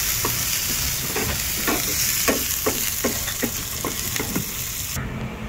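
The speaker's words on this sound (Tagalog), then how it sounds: "brownin lang natin yung bawang" Garlic, ginger and onion sizzle steadily in hot oil in a pan, with a spoon or spatula tapping and scraping in an irregular rhythm, close and continuous.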